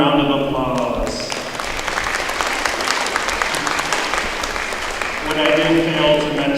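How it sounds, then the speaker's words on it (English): A gala audience breaks into sustained, full applause, a broad clapping roar filling the middle seconds, with someone speaking before it starts and again as it fades. "let's give them a round of applause"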